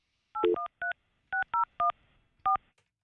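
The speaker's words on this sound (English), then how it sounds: "I'm calling your cell phone from our studio lines." Touch-tone dialing from a radio studio phone line calling a cell phone: seven crisp DTMF beeps in uneven quick succession, loud and clean with no talk.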